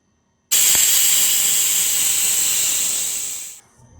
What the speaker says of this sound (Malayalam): ഒരു 3-4 വിസിൽ കേൾക്കട്ടെ.